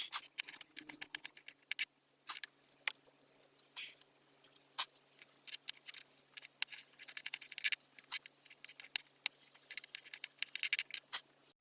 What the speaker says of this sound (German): So ein bisschen kleine Würfel.